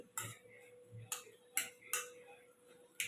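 Cooked pav bhaji vegetables being smashed in a pan, a few sharp, separate metallic knocks and scrapes of the masher against the pan, quiet and close with pauses between.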